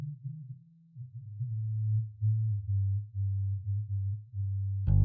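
A low, sustained synthesized bass tone throbs steadily in a music production context, its energy pooling heavily in the low end around 105 Hz with a muddy buildup, ending in a brief bright burst.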